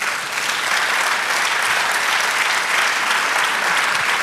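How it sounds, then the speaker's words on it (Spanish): A church congregation applauds during a sermon, with steady, dense clapping that holds at an even loud level throughout and has no talk over it. "Denle un aplauso al Señor."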